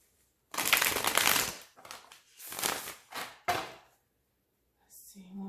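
Tarot cards being shuffled in several broadband bursts of riffling and snapping, loud and close, with short pauses between the shuffles and a faint low sound at the end.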